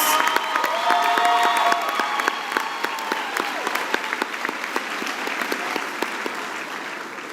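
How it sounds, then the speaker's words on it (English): A large audience applauds graduates of the Faculty of Health Sciences at a university graduation ceremony, sustained loud clapping with sharp individual claps and faint cheering, gradually tapering over seven seconds. "let's give all our graduates in the Faculty of Health Sciences another huge round of applause"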